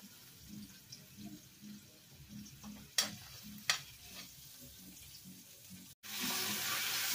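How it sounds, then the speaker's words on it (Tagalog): Meat sautés in a pan with garlic and onion, a soft low sizzle under rhythmic scraping stirs, with two sharp clacks partway through and then a sudden louder hiss toward the end. "ginigisa ko na yung karne"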